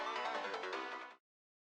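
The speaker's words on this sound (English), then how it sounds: "I hear a familiar melody, my male ringtone." A bright electronic phone ringtone melody from the video game Steins;Gate plays alone for about a second, then cuts off abruptly into silence.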